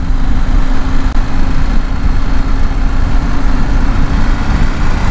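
A 2021 KTM 890 Adventure motorcycle engine drones steadily while riding, a loud, low, continuous rumble mixed with wind noise, with no talk over it.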